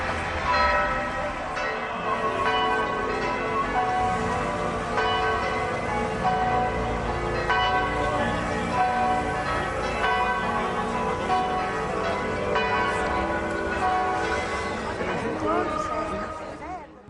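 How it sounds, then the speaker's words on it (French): Church bells swing back and forth in a tower at Gohyssart, pealing continuously with rich overlapping ringing tones for the whole stretch, while a voice talks faintly beneath. "les cloches, elles sonnent toujours d'avant en arrière"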